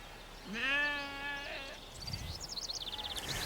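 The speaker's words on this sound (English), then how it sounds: "Bighorn sheep in their natural environment." Wild bighorn sheep in their natural environment, one drawn-out wavering bleat at moderate distance, followed by a rapid pulsing chatter of birdlike calls and faint outdoor background.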